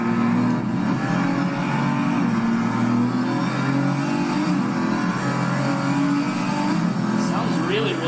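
Nissan Z Proto race car in Project Cars 3 on PS5, driven through a tight curve without traction control: a steady, loud engine drone that holds high revs throughout with faint tyre noise, no one speaking.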